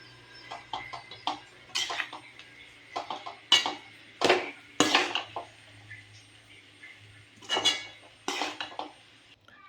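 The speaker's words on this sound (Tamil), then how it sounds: "ஸோ இப்போ நம்ம சாதம் சேர்த்து நல்லா கிளறி விட்டுறலாமா?" Cooked rice is stirred into mint rice in a metal pan, giving a series of irregular scraping clanks of a spoon against the pan, close and moderately loud, with quiet gaps between strokes.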